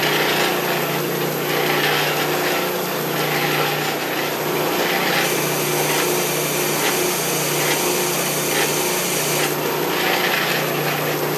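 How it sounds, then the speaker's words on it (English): A belt-driven drill press runs an oscillating drum sander continuously with a rough sanding rasp against wood, steady and close, with rhythmic scraping pulses and no voices. "this belt's driving the drill press"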